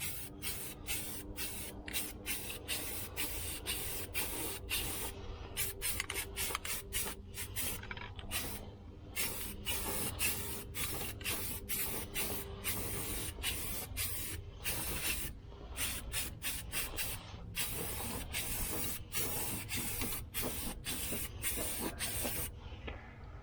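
Aerosol spray paint being applied under the hood of a 1976 El Camino, heard as many short hissing bursts in steady succession at close range, with brief pauses between sprays and no talking.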